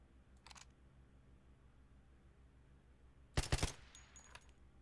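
A short burst of rapid gunfire in a video game, shooting through a bar at a cell tower base, sharp and loud over a low steady hum, with a faint earlier crackle.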